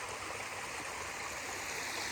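Water spills continuously over the edge of a landscaped pond into a stream below, a steady soft rushing and trickling wash with no break or voices.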